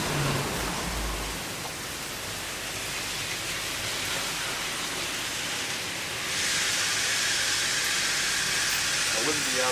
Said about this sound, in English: You see how bad the rain is? Yeah. It's raining sideways.